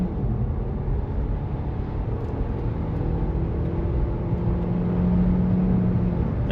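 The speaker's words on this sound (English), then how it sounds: "let's accelerate away here now" A Kia Niro PHEV plug-in hybrid accelerates along a dual carriageway, giving a steady, close interior drone of engine and road noise with a rising tone toward the end, and no talking.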